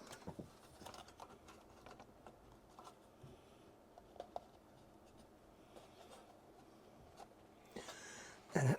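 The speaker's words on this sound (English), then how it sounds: "And then the keyboard goes on the top." An Amiga A1200 computer keyboard is fitted onto the case during a refurbishment, giving a series of quiet plastic clicks and taps with a louder knock and rattle at the end.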